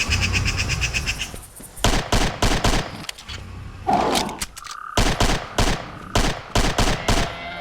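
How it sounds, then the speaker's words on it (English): A tactical pistol fires in the dinosaur-hunting game Carnivores 2, loud sharp shots ringing out in quick bursts and fast single volleys with brief pauses between, alongside short game sound effects. "the Tac Pistol has one primary job: fire as many bullets as quickly as possible"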